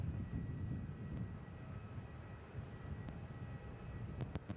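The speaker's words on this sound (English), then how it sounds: "Qantas 454, runway 34, cleared for takeoff." A Qantas airliner takes off at Melbourne Airport from runway 34, a steady, distant low engine roar holding throughout with no talk over it.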